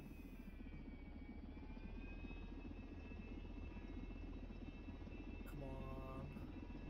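A helicopter rotor and engine in the flight game SimplePlanes, a faint, steady whirring drone that runs the whole time, with a brief spoken voice near the end.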